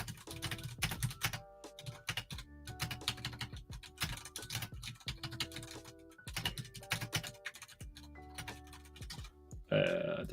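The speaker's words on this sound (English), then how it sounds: "I did not type that correctly." Quick, close clatter of typing on a computer keyboard, keys tapped in uneven bursts with short pauses, fairly quiet, then a brief louder sound at the end.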